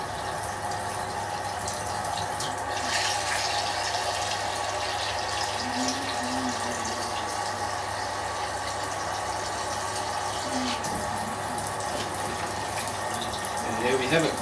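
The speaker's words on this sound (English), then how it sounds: "And I think I'll put one more jug of cold water in there." A jug of cold water is poured into a homebrew beer mixture in a fermenting bucket, making a steady, continuous splashing and gurgling fill at close range that holds even throughout the clip.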